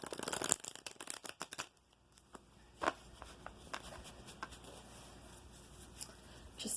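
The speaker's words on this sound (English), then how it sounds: "I'm going to take some more cards for you from the Steampunk Tarot" Steampunk Tarot cards are shuffled close by in a quiet room: a quick flurry of riffling and soft slaps, then scattered lighter card flicks and taps trailing off.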